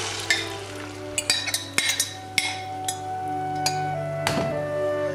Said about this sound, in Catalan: amb l'oli ben escampat i ben calentoneta la paella, hi posarem l'ou barrejat amb el carbassó